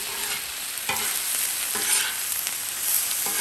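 Vegetables and onions frying on a Blackstone griddle, a steady close sizzle with a few scraping stirs, no voices.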